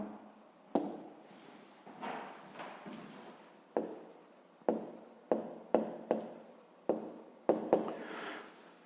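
A pen writes out a fifth-grade math solution about lake areas on paper, giving a series of short scratching strokes in an irregular rhythm, close and fairly quiet.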